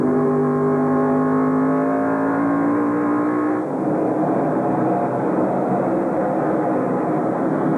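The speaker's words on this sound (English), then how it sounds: "Around Lonnie Rush go the race leaders. And some significant traffic now." NASCAR Craftsman race trucks roar past at I-70 Speedway in 1997, a loud, continuous engine drone with rising harmonic whine that shifts in pitch midway as the pack passes, with no voices.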